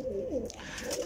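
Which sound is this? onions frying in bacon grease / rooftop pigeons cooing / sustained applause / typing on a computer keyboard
rooftop pigeons cooing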